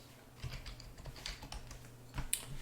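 Soft, quick clicks of keys on a computer keyboard as a password is typed, an irregular run of light taps heard close and quiet with no talking.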